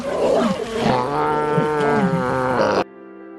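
Lions roar in the wild, a deep, loud, rumbling call that rises and holds for a few seconds before cutting off abruptly.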